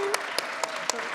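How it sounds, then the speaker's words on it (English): An audience applauds parents at the CMA Red Chair 2022 event, giving a brief burst of evenly spaced, crisp claps over a background of crowd noise, with voices talking. "We got to clap you out."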